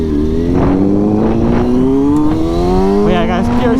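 A motorcycle fitted with a new exhaust revs loudly and close by, its engine note rising steadily through the gear with a rough, continuous roar and a brief dip near the end.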